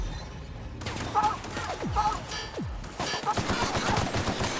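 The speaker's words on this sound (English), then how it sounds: "somebody's shooting with purple weapons." Bursts of gunfire from purple energy weapons in The Outer Worlds sci-fi shooter, several volleys with swooping tones crackling through a steady background, fairly close and loud.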